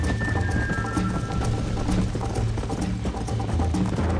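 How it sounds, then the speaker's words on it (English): Horse hooves gallop in a rapid, steady clip-clop through a race in the Red Dead Redemption video game, loud and continuous with a brief whinny-like high tone near the start. "You're gonna wear that horse out."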